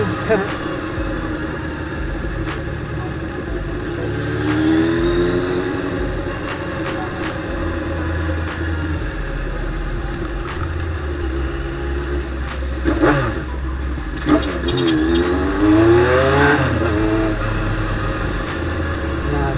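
A Honda CB400 motorcycle engine revved toward high RPM during a home service job, the low engine roar rising and falling in several sweeping pulls, loud and close, with a voice talking over parts of it.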